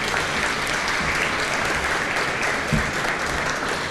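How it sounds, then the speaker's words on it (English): Steady, sustained applause from a crowd at an annual state-of-the-county luncheon fills the whole stretch, dense and even with no voices standing out. "How about a round of applause for that,"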